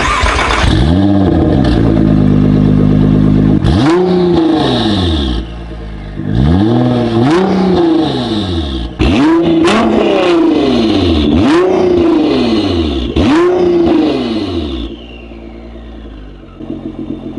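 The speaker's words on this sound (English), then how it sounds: "here comes some crazy loud revs and a bit of fun" A 2017 Nissan GT-R fitted with an Armytrix exhaust revs hard in repeated loud bursts, each blip climbing and falling in pitch, with brief lulls between throttle stabs before settling to a lower idle at the end.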